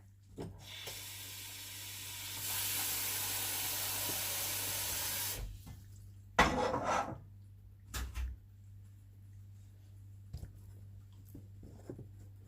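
A steady, loud hissing roar of water at a rolling boil for blanching vegetables runs for several seconds, then gives way to a few scattered clatters and knocks.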